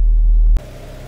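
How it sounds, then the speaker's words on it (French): A heavy, low engine rumble from a Volkswagen Corrado G60 that abruptly drops to a quieter, steady idling hum as it warms up for the rest of the clip. "laisser un petit peu le temps au moteur de chauffer"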